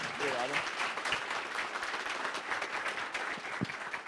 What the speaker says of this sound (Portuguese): Gente, por favor, uma salva de palmas para o Rodrigo.